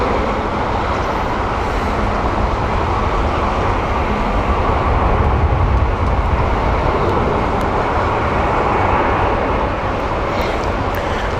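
Airliner at Heathrow Airport, an A320 bound for Amsterdam, gives a steady loud broadband roar that holds at the same level without letup, mixed with low rumble from nearby traffic.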